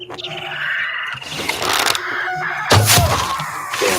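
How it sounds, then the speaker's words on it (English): A bird calls loudly in the survival video game 7 Days to Die, with crowing, squawking bursts over dense game ambience and a sharp, loud crack near the end. "Damn bird."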